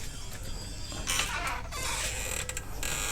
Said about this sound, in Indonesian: si Puhi udah buka pintu nih guys